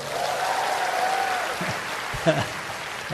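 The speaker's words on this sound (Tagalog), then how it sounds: "Pumapalakpak." A congregation at a healing message service claps, a steady wash of hands under a voice that talks over it, with a brief louder burst near the end.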